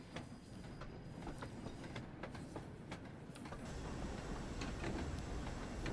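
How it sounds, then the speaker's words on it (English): Steam train in Train Sim World 2 clanking across points, a run of regular rhythmic wheel clicks over a low rolling rumble that swells slightly toward the end, no voices. "Clanking across the points and everything."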